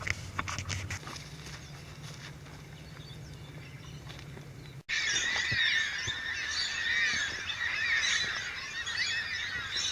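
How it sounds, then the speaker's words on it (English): Black cockatoos calling in the Australian bush, a dense chorus of harsh, wailing cries that starts suddenly midway and carries on steadily, fairly loud and close, after a quieter stretch of low rumbling background. "Amazing sound. It's black cockatoos."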